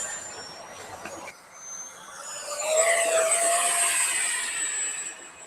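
An RC model airplane flies in for a landing in an evening sky in Belgium, its motor whine rising and sweeping in pitch as it passes close, then fading slightly.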